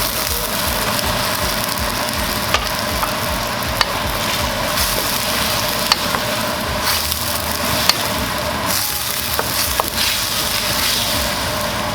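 Sweet and sour sauce with onions and sweet peppers bubbles and sizzles in a pan at a boil, a steady close crackle with occasional sharp pops and spatters, no talking.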